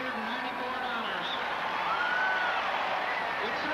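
A huge stadium crowd at the Orange Bowl applauds and cheers in tribute to Marc Buoniconti, a steady distant roar of clapping and voices held under a broadcaster talking.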